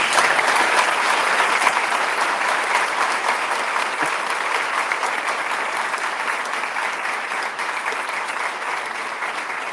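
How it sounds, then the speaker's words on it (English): Audience applause closing a fireside talk at a conference event, a dense, steady roar of many hands clapping that fills the whole stretch at even loudness, with no talking over it. "A huge round of applause."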